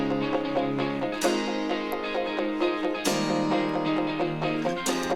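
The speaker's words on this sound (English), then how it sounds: "So together the guitar sounds like this." Layered rock guitars in a remix play a dense, strummed pattern with bright chord attacks recurring every second or so, steady and upfront with no voices.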